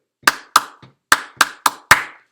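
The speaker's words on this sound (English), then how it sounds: "let's clap that rhythm a few more times" Sharp hand claps tap out an eighth-quarter rhythm, seven crisp close strikes with uneven spacing and a short soft tap mid-pattern, no voices.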